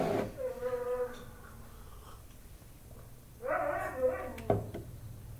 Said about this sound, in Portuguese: esse latido aí é dos cachorros do vizinho